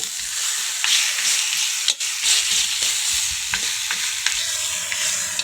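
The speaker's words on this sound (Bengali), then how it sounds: "এবারে মাছের মাথা দিয়ে ভালো করে ঝুড়ো করে নেব" Fish head frying and being mashed in a pan for muri ghonto, a Bengali dish, with a loud, steady sizzle throughout and repeated scrapes and taps of the spoon, close up and with no voices.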